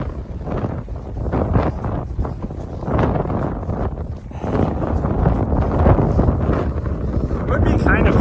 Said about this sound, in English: goes straight into the wind